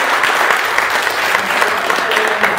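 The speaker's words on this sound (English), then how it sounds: "So another round of applause for Rachel." A Sunday gathering audience applauds the featured speaker, steady dense clapping at close, full volume throughout.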